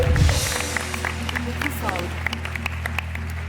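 Studio audience on a Turkish talk show applauds the orchestra, a broad wash of clapping over a low steady hum, with a burst of music or tones early and sparse sharp claps continuing throughout.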